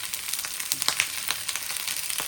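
Garlic, mushrooms and tomatoes sizzling in a frying pan, a steady close crackling hiss with scattered sharp pops and no talking.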